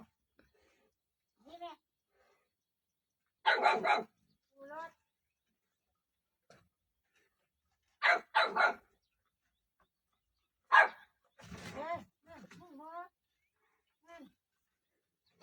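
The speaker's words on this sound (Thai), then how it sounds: "เห่าอะไร" A dog barks on a rural farm where frogs and buffalo are kept, giving several separate loud barks and short bursts spaced out by quiet gaps.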